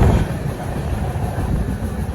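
A passenger train running slowly near Belgaum station, heard from inside as a steady loud rumble with low rolling wheel noise throughout, no talk.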